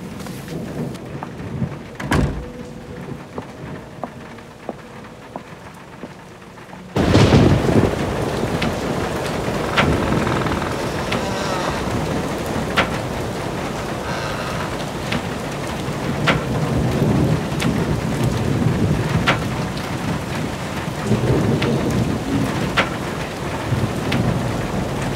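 A heavy thunderstorm at night, with a quiet stretch of faint rain and a distant rumble before the storm swells into loud, steady rain and wind with rolling thunder cracks, no voices.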